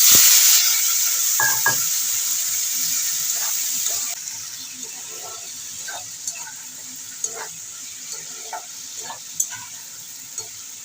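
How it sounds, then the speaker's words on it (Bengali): Tomatoes drop into hot oil tempered with mustard seeds for a homemade tomato chutney, sizzling loudly at first, then settling into a steady fry with scattered stirring scrapes. "এবার আমি টমেটোটা দিয়ে দিচ্ছি"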